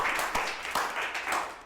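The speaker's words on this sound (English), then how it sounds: "let's get a round of applause for John." Brief audience applause at a monthly talk on product strategy, a steady moderate patter of many hands clapping with a few sharper individual claps standing out.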